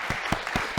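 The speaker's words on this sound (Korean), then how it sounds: "하나님께 영광의 박수 올리겠습니다." Congregation applause at a Korean church Sunday service in Berlin, a brief moderately loud burst of clapping with a steady, regular pulse.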